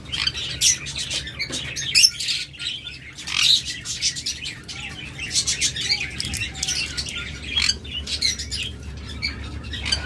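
Tame pet birds for sale, including green and olive opaline pairs, chirp and squawk in quick, overlapping bursts, close and fairly loud, with scattered tweets throughout and no talk.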